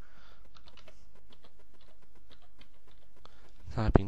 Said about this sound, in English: typing dcpromo, and this brings up the Active Directory installation wizard